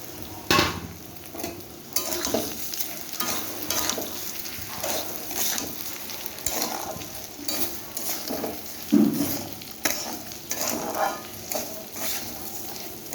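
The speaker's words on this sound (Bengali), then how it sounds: "এবারে আমি চালটাকে ভেজে নেব" Gobindobhog rice fries with ginger spice paste in a pan, stirred with a utensil that scrapes and knocks against the metal in irregular bursts over a continuous sizzle, close and fairly loud.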